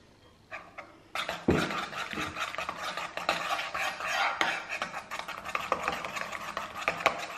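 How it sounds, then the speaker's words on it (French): A spoon stirs a homemade hair treatment with a teaspoon of cider vinegar in a bowl, making continuous close scraping and clinking that runs unevenly for several seconds, with no talk. "Vous mélangez votre préparation. Et vous rajoutez une cuillère à café de vinaigre de cidre."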